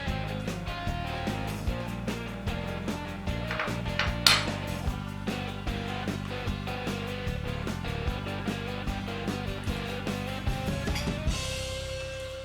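Metal utensils clink and scrape against a dish while a crock pot pork roast is broken apart: a steady run of close, light taps with some ringing, ending in a brief brighter rattle.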